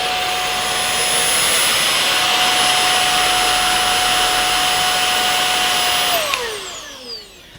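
An Amazon Basics cordless vacuum cleaner runs with a loud, steady high-pitched whine and airy roar, holding constant for several seconds before winding down sharply as the motor slows and the pitch drops away to near silence.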